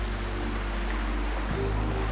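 A Hawaiian stream rushes and gurgles nearby as a continuous, fairly quiet wash of water, with a low steady hum beneath it and a slight surge partway through.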